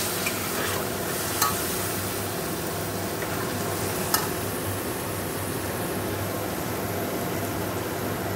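White cumin, black cumin and dried red chillies tempering in hot oil for an egg curry, a continuous close sizzle with a couple of sharp utensil clinks as the spices are stirred.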